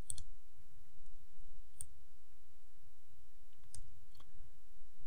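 Sparse computer mouse clicks, a handful of sharp isolated taps spread over several seconds, against a faint quiet room background.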